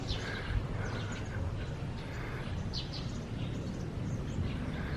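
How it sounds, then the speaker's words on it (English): Faint birds chirp intermittently inside a church in the Philippines, small scattered tweets sitting above a loud, steady rumbling background noise. "You're inside the church and you can hear the birds."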